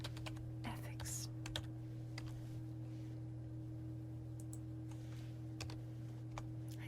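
Quick, close keystrokes on a computer keyboard come in short irregular bursts over a steady low electrical hum.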